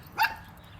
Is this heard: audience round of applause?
no